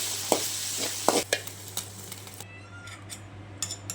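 Coconut paste is stirred into sambar in a pot, with soft, wet stirring scrapes and a light sizzle, plus a few sharp, close knocks against the vessel.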